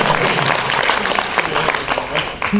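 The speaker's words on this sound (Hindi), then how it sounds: "इसलिए जरा सा सलीके से तालियां बजा रहे हैं" A crowd claps politely at a poetry recital, a fairly loud, uneven patter of many hands that carries on for a few seconds.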